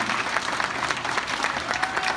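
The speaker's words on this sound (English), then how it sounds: "Let's give all these Weeble Twos a big, big round of applause" A crowd at a Cub Scout Blue and Gold ceremony gives a steady, dense round of applause, many hands clapping evenly for the whole stretch with no talking over it.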